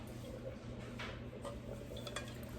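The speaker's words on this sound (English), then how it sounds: "I'm going to add just a little bit of water to them." A little water is poured into a pot of string beans with salt pork and bacon fat, a soft steady trickle with faint clinks of a spoon against the pot.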